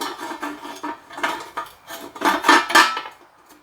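Metal parts clink and clatter while an engine oil deflector is installed during engine assembly, an uneven series of light taps and scrapes building to louder knocks near the end, close by with no talk.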